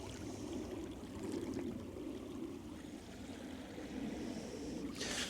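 Coastal water washes over shallow stones in a soft, continuous rushing flow, faint and steady throughout with no voices.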